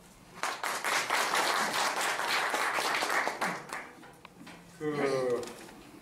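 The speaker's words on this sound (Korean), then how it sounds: "좋은 강의를 해주실 우리 강사님들께 다시 한번 큰 박수 부탁드리겠습니다." Audience applause for the lecturers at an evening special lecture on Korean Chunran orchids, a dense burst of clapping lasting about three seconds, then fading as a voice begins talking.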